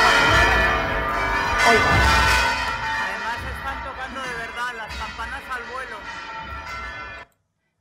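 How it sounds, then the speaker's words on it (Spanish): The electrified swinging bells of the Giralda in Seville ring on Easter Sunday, a loud, dense clangour of overlapping strikes that fades toward the end and then cuts off abruptly, with a brief voice present. "están tocando de verdad las campanas al vuelo, están electrificadas"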